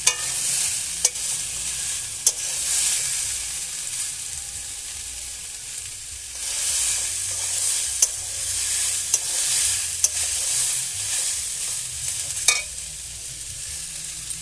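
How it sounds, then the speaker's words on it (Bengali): Peas being stirred lightly in hot frying oil, a steady close sizzle running throughout with a few sharp scrape clicks from the utensil and no talking. "মটরটা আমি তুলে দিয়েছি তেলে হালকা করে তেলে একটু নেড়ে নেবো"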